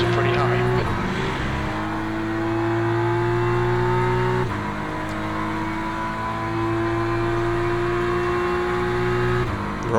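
A GT3 race car engine in Le Mans Ultimate drones at high revs along the Bahrain start-finish straight, pitch climbing steadily through two gear changes, loud and continuous beneath a driver's talk.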